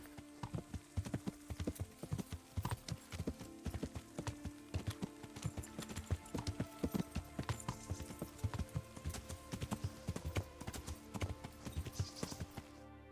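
Horse hooves clip-clop steadily on a road while riding in the video game Kingdom Come Deliverance, with a continuous rhythmic patter under a soft tonal music bed and no talk.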